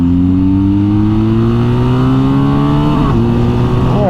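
A BMW R1250GS Adventure motorcycle's boxer engine pulling hard, its loud droning tone climbing steadily as it accelerates, with a brief shift-like dip near the end before rising again, very close.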